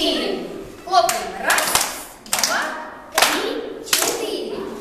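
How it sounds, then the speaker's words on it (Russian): Children in a preschool class clap their hands together in time, about four sharp group claps spaced roughly a second apart, with an adult voice and children's voices between the claps. "Хлопаем."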